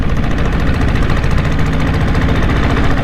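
A diesel-engined Bullet motorcycle of 6.5 or 7.5 HP runs close by, its engine giving a loud, continuous knocking thud with a rapid, even beat and no talk over it.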